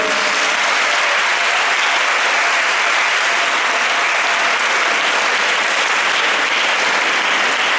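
Loud, sustained applause and cheering from a hall full of children at a morning celebration, steady and dense throughout with no break, clapping close and filling the room.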